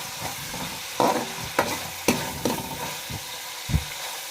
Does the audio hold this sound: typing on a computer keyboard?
no